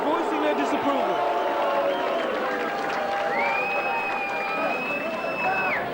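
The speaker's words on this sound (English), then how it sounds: "the crowd voicing their disapproval" Arena crowd at a boxing world title fight between Paul Lenihan and Serge Moretto, a loud, continuous roar of voices voicing disapproval after an inconclusive ending, with shouting and booing sustained throughout and a few whistles rising above the din.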